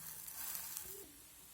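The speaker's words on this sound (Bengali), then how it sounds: "অন্য পাশটা এইভাবে আমি মিনিট খানেক চেপে চেপে একটু ভেজে নেব, তাতে খুব সুন্দরভাবে ভাজা হয়ে যাবে।" Flatbread made from wheat flour and egg fries in a pan while pressed down, giving a soft, steady sizzle at close range with no talk.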